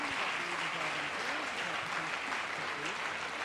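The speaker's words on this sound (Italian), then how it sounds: "Veramente dedichiamoci un applauso per quella che è stata una settimana fantastica." Audience applause at the Atreju conservative political festival in Italy: a steady wash of clapping from a large crowd, fairly distant and soft, with faint voices speaking underneath.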